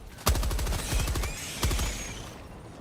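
Video game gunfire comes in two sharp automatic bursts, each a fast run of cracks that decays quickly, played at fairly low level with no talk over it.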